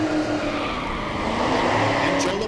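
A Camaro drag racing car at Texas Motorplex in Ennis, Texas roars steadily during a burnout, a loud continuous engine and tire rumble with crowd and announcer talk underneath.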